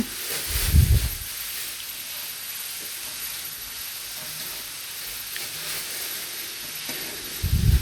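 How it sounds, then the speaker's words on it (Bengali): Niramish sago pulao fries in a pan with a steady, bright sizzle and hiss throughout, and low knocks of stirring near the start and end. "ভিতরে যা জল ছিল সেটাও চুষে নিয়ে যাচ্ছে, আবার এইভাবে ভাজছি, ভাজাটাও ভালো হচ্ছে।"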